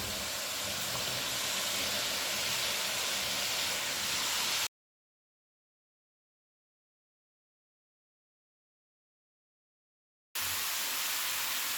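Chopped turnip sizzling as it is added to hot cooking masala, a steady hiss that cuts out completely and then returns.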